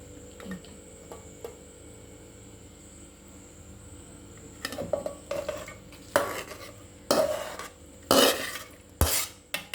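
Cooked biryani masala is scraped out of a pan into a mixer jar with a spoon. Quiet rustling gives way to a series of louder scrapes and metallic clinks in the second half.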